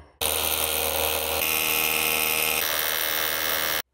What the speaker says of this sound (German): mit einem 8er Steinbohrer mal in die Fassade hineinbohren